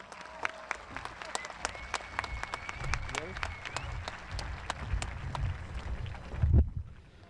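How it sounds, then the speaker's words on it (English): A high school graduation crowd applauds card readers in a spread-out, outdoor-sounding round of clapping with scattered sharp claps, some wind rumble and voices underneath. "Can we please give a big round of applause for our card readers"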